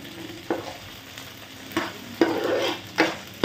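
Ginger garlic paste fries on low heat for a prawn curry, a soft steady sizzle broken by four brief scraping stirs of a spoon in the pan.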